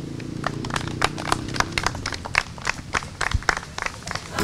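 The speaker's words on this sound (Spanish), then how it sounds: "¡Aplausos!" Audience applause at a folk dance and taekwondo show, heard as a steady patter of hand claps with sharper individual claps breaking through, moderately close, over a low background murmur.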